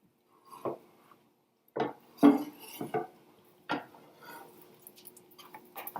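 A pork, cabbage and guacamole quesadilla is flipped in a pan, giving a few sharp clanks and scrapes of a utensil against the metal, spaced irregularly and fairly close, with no talk.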